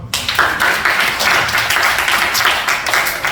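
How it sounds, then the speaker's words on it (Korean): A church youth-service congregation claps together, a steady, fairly loud burst of many hands clapping in quick, even rhythm, filling the room without talk. "정답 박수."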